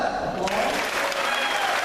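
A church assembly congregation breaks into loud, dense applause, a continuous wash of many hands clapping close and full throughout.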